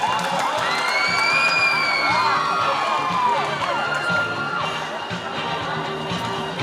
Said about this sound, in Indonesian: Beri tepuk tangan yang meriah sekali lagi untuk seluruh finalis